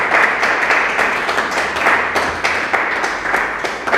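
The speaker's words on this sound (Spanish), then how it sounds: "Denle un aplauso al Señor por eso" A church congregation at a Sunday worship service applauds, a warm, steady wash of clapping in a reverberant hall, with sustained low tones beneath it.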